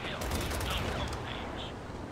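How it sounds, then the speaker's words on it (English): Rapid automatic gunfire from the video game Gears of War 4 rattles in quick bursts at moderate level, layered over a busy game soundscape while a player talks underneath. "I keep shooting instead of aiming."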